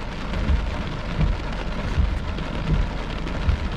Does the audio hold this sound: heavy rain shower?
yes